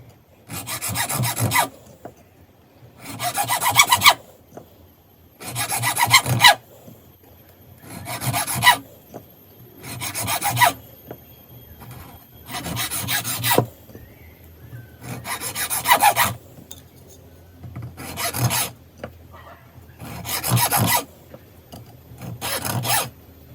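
Hand saw rasping back and forth across a coconut shell to score a marking groove, in about nine loud, regular bursts separated by short pauses, close up with no talk.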